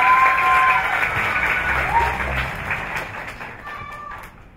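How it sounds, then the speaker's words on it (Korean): Audience applause at a Korean arts school entrance ceremony for dance department freshmen, dense clapping starting loud and gradually thinning and fading, with a brief voice over it. "박수 부탁드리겠습니다."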